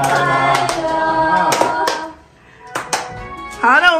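Hands clapping along at a 12-year-old girl's birthday party at home with friends, a steady series of close, fairly loud claps, then a brief lull before a few more claps and a voice at the end.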